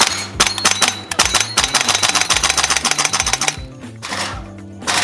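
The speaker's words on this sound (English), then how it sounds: "you can almost bump fire this thing" A VFC AK airsoft rifle bump-fired in quick, snappy bursts: a rapid string of sharp mechanical shots runs for about three seconds, breaks off briefly, then resumes, close and loud.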